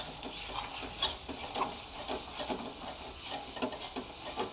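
Ground coriander, cumin and Kashmiri chilli frying for chicken curry, stirred steadily in the pan: a continuous close sizzle with rhythmic scraping and light metallic clinks, no talking.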